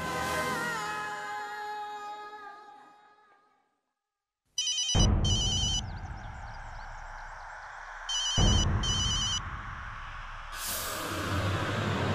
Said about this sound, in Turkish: Samrat, al telefonu Rudra'yı ara.